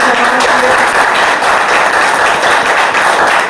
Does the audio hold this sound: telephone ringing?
no